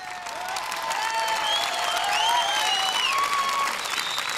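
Sustained applause from an audience at a formal ceremony, a dense even wash of many hands clapping throughout, fairly close, with faint cheering and whistle-like voices over the crowd.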